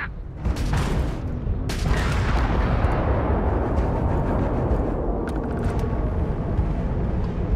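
Missiles fire from a ship in the video game Starfield, producing a loud, sustained barrage of booming, rumbling blasts that rolls on continuously with no break.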